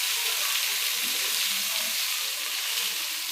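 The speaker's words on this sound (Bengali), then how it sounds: "তারপরে এই যে কাটা আলুটা দিয়ে দিচ্ছি সবজি, তারপর একটু নেড়ে চেড়ে দিলাম।" Cut potatoes with salt, turmeric and cumin powder sizzle steadily in hot oil, a continuous close frying hiss with occasional soft scraping as the pan is stirred, no voices.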